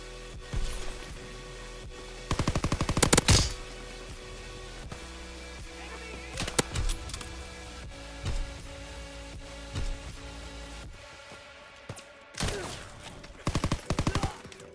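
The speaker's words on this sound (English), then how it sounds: "Shotgun, fire shotgun." Shotgun blasts from a fire shotgun in a first-person video game, loud repeated bursts in several clusters spread across the span, with a steady background hum of game ambience between shots.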